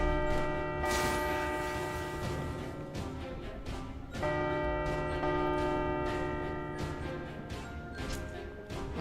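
Crimson Bells attack in the video game Alder Forge, heard as loud, sustained bell-like ringing tones that strike, swell and ring out over about nine seconds, with a second strong burst midway.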